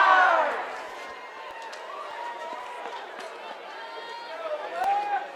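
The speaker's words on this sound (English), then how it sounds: "Oh man, look at the ambient crowd going." Crowd at a high school football game between North Kitsap and Kingston on a night game, a steady mid-distance roar of voices that swells at the start and again near the end, with loose chatter throughout.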